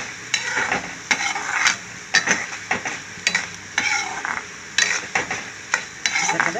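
Curry leaves and coriander seeds frying in a pan, with repeated scraping stirs and soft crackling sizzle coming in irregular bursts at close range.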